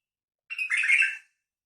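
A bulbul gives a short, bright warbled phrase of under a second, close and clear against total silence.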